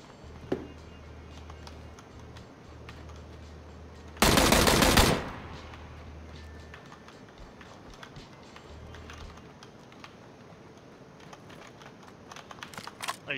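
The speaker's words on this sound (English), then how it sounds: "Are you shooting someone? Yeah, I just downed someone, dude." A single dense burst of automatic gunfire in PUBG, lasting under a second over quiet game ambience with faint clicks and taps before and after it.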